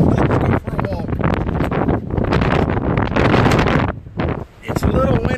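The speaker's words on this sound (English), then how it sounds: "It's a little windy today, so I hope you guys can still hear us." Strong wind buffets a microphone on a beach, a loud, continuous rumbling roar with gusty swells and brief lulls, while people talk under it.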